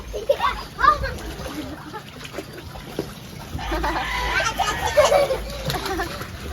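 Children swimming and splashing in water, with choppy splashes and sloshing that build into a steady churn while kids and an adult talk and call out close by.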